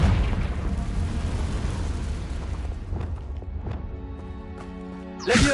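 A Confringo fire spell from the Hogwarts Legacy video game sets off a deep, loud rumbling explosion that roars and slowly fades, followed by a softer tonal in-game sound and a sudden new burst at the very end.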